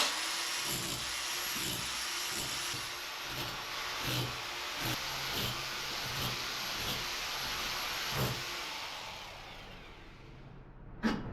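A power drill removing plaster from a hallway wall whines continuously at close range, with repeated scraping knocks as plaster breaks away, ending in a brief clatter.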